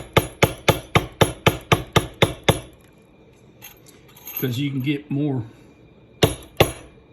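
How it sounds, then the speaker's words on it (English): A hammer strikes a Barry King leather tooling tool about nine times in a quick, even rhythm of loud, sharp knocks. After a pause someone speaks briefly, then two more strikes ring out. "less smacks of the hammer here, you know."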